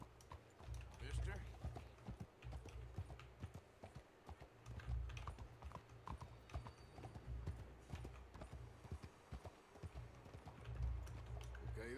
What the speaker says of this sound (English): a fine horse you got there